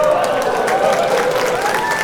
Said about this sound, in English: Let's definitely give that a round of applause.